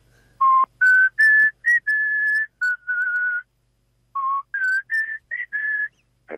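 A man whistles a tune alone, clear and close, in two melodic phrases of sustained and short notes separated by a brief pause.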